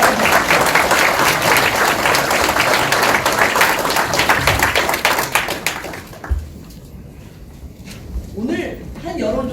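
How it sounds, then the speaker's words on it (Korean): A large crowd at a political party unification rally gives a big round of loud, dense applause that drops off sharply after about six seconds, leaving scattered claps and room noise. "우리 모두를 축하하는 의미에서 큰박수 보내드립니다."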